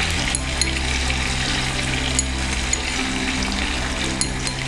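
Beef pulao ingredients fry in a pot with a loud, dense, continuous sizzle, a low steady hum beneath and a few faint ticks scattered through, with no speech.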